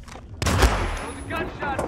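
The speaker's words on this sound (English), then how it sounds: "That was a gunshot, stay alert!" A gunshot goes off in the Hitman video game as a single loud, sharp blast with a ringing tail. Game voices and other noise follow it closely.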